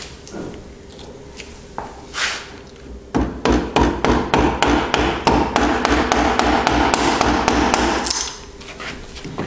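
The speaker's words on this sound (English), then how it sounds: "now this time the chisel can go right into the corner of the groove" Hammer or mallet blows drive a chisel into wood to cut a mortise and tenon joint: about twenty loud, close, sharp strikes in a steady rhythm of roughly three per second, after a few scattered softer knocks and scrapes, with no talk.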